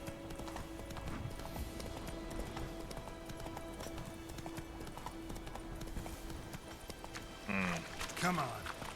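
Hooves of Roach, the horse in The Witcher 3, clip-clop steadily at a walk under a low ambient game score, with a brief louder whinny-like sweep near the end.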